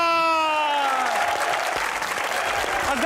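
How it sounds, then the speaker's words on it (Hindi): A studio audience on a talk show applauds to welcome a guest. A musical sting fades out at the start, then steady, full clapping carries on to the end. "बुलाने जा रहा हूं सोशल मीडिया की जान, तालियों में रुमैसा खान"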